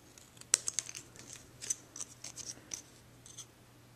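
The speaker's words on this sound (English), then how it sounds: "Now I'm going to go back in with scissors here. And I'm just going to, by hand, trim these strips." Scissors trim paper strips by hand at a craft table, a quick series of sharp, close snips that starts with one louder cut, with small paper rustles between them against quiet background.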